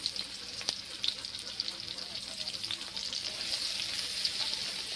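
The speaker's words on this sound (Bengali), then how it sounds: "এখন আমি ওই তেলের মধ্যে দিয়ে দিচ্ছি গ্রেট করা রসুন।" Grated garlic is dropped into hot oil that has just fried rohu fish, giving a soft, steady sizzle and crackle with a few small pops, faint and continuous throughout.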